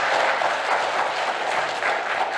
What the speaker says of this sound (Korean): 우리 한번 박수 한번 주시죠